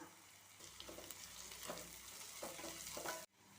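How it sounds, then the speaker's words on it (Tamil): Small onions and curry leaves sauté in oil, a faint crackling sizzle with intermittent stirring scrapes that stops abruptly near the end. "சின்ன வெங்காயம் எண்ணெயிலேயே நல்லா வதங்கி வரட்டும்"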